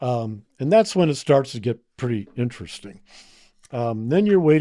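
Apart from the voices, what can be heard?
No everyday noise stands out behind the speech.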